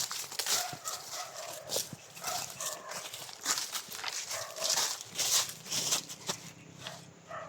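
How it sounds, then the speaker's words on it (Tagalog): Several dogs bark intermittently at a distance, mixed with clopping hoof-like steps and general outdoor bustle. "May mga aso din."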